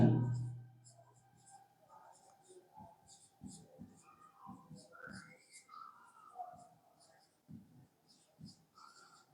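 Pen strokes on paper while an answer is written out by hand in a maths lesson on patterns, giving soft, irregular scratches close by, with faint breathing and quiet background sounds between them.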